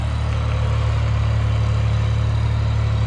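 The diesel engine of a New Holland T580B tractor, rated at 55 horsepower and rigged with a leveling blade, drones constantly nearby in a smooth, unchanging low-pitched thrum.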